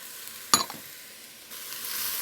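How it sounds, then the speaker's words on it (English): Onion, celery and carrot sauté in a soup pot, giving a faint hiss with a sharp clatter near the start and a slightly louder sizzle toward the end, with no voices. "I'm going to add to that celery and carrot, and we're just going to saute that off"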